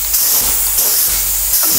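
Air hisses steadily from a leaking hose on a DC040500 portable air compressor, a loud, continuous, breathy rush that holds nearly constant with slight swells, with no talking.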